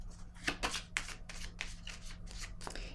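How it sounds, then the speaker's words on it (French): Tarot cards being shuffled and handled from a deck at close range, a steady run of soft riffling and flicking with several sharper snaps, with no talking. "Je vais piger une autre carte ici."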